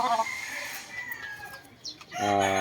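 A super sweater gamefowl rooster, two years old, lets out a short crow near the end after a stretch of quieter clucking and yard noise, loud and close.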